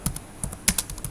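Quick keystrokes on a computer keyboard while entering network configuration commands, about eight sharp clicks in a brisk, slightly uneven rhythm, close and clear with no talking.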